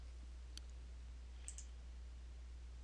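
Two soft, crisp mouse clicks, a second apart, while working in Oracle APEX 4.2.4's Object Browser, faint over a steady low electrical hum with no talking.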